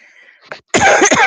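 A short throat-clearing sound followed by a loud, close cough with a couple of harsh bursts.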